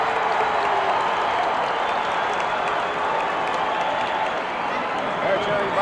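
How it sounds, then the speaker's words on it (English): A large arena crowd at a 1973 roller derby playoff game in Oakland roars and applauds in a dense, continuous wash of cheering and clapping that carries steadily throughout, with voices mixed into the noise. "Listen to the crowd."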